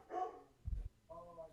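A pet dog gives a couple of short barks and a low yip at moderate distance, mixed with brief voices talking nearby.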